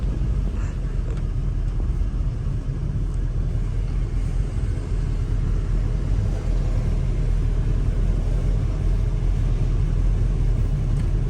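Low, steady engine rumble from a 1969 Plymouth GTX with a big-block 440 while driving, heard continuously from inside the car with a deep drone throughout and no talk.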